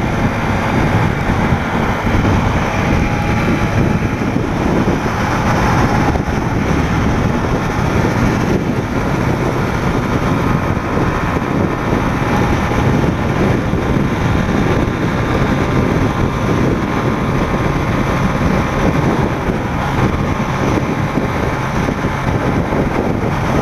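Strong wind blowing hard on a truck trip in Divinópolis, Minas Gerais, a dense steady rushing roar buffeting the microphone for the whole stretch, loud and unbroken with no voices.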